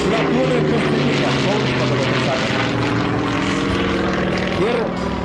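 A propeller airplane flies at a 2007 aviation festival in Lithuania, its engine a loud, steady drone with shifting pitch that fills the whole stretch, close and continuous, while people talk underneath.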